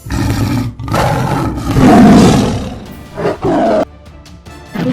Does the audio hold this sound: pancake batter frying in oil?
no